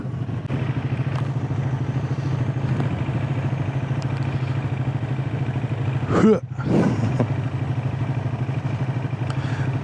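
A 2025 Triumph Scrambler 400X motorcycle on a ride, its engine a steady close drone with a brief throttle dip and rise midway, otherwise constant with no talk.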